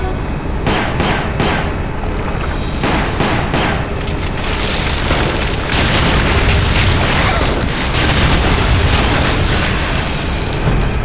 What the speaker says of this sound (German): Das war jetzt nicht so geplant, dass ich eine Granate rausschieße.